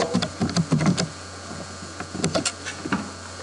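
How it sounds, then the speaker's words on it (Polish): Fingers tap out a login and password on a computer keyboard in quick irregular bursts of sharp clicks, close up, with short pauses between runs of keystrokes and no talking. "Wpisujemy login oraz hasło"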